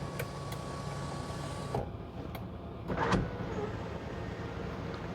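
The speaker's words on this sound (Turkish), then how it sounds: "Bir tuşla da otomobilin üstünü komple açabiliyoruz." Electric sunroof of a Dodge SWM G01F opening, a faint motor whir running steadily, then stopping partway with a soft click and a brief mechanical clunk.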